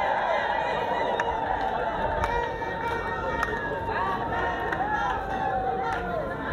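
A crowd at Bagamoyo welcoming a Catholic bishop, with a dense mass of voices, chatter and festive calls filling the space continuously, while ululating tones rise and fall over the loud, close hubbub.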